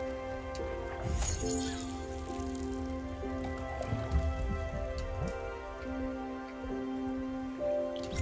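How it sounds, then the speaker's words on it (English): Watering plants in Spiritfarer gives a soft, steady rain-like patter with droplet ticks, running for several seconds under calm, tonal game music. "Oh, it wants me to water those."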